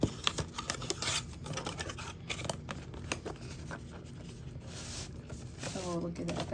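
A Chanel 2021 holiday set package is opened up close, with crisp scratching, tearing and clicking of packaging in quick bursts, and a voice speaks briefly near the end.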